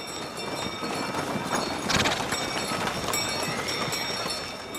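Horse hooves clip-clop steadily over a busy, dense background in a period drama scene, the hoofbeats moderately loud and continuous with no speech.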